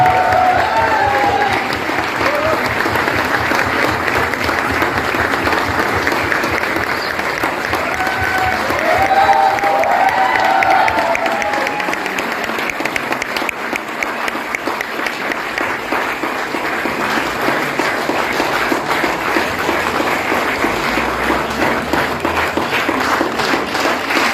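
Steady audience applause at a stage event honoring guests, dense continuous clapping from a sizable crowd lasting over twenty seconds, with occasional voices faintly underneath.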